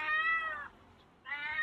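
A cat meows twice outdoors in an old neighborhood, two drawn-out, tonal cries separated by a short pause, fairly close and clear with no talking.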